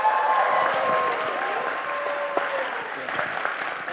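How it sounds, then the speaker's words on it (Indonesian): Audience applause fills a hall at a campus talk about two ITB graduates, steady clapping at fairly close range that holds throughout and slowly thins, with faint voices underneath. "berikutnya kita juga berikan aplaus yang meriah untuk Hafiz Kurnia Utama"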